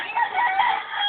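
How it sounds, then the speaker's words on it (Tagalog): A fighting rooster, a gamecock, crows once in a short, loud, strained call lasting about a second, close by and with no talk over it. "May panabong kong manok ko."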